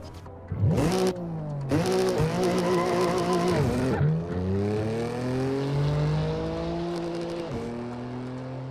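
BMW car driving in the racing game Assetto Corsa, its engine revving up and shifting through gears with a loud, steady drone and rising pitch sweeps, heard close and alone.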